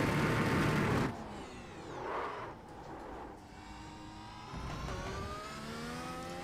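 A race car laps a track during a racing academy practice session, its engine note sweeping up and down through shifts, easing off under braking, then revving hard again as it pulls away.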